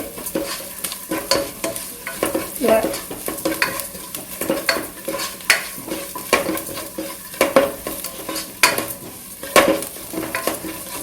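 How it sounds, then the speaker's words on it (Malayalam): Chilli potatoes stir-fried on a high flame: steady sizzling and frying with repeated scraping and clinking of a spatula against the pan in an irregular rhythm, close and alone without talk. "നല്ല ഹൈ ഫ്ലെയിമിൽ വേണം ഇത് ഉണ്ടാക്കാൻ വേണ്ടിയിട്ട്"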